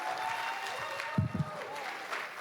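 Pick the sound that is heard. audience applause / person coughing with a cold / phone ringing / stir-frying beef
audience applause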